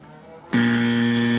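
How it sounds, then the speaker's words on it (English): A game show buzzer sounds abruptly about halfway through, a loud, steady, harmonic electronic tone that holds to the end over faint background noise. "Sorry, I got to catch up on the buzzer."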